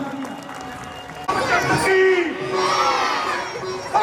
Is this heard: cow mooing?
no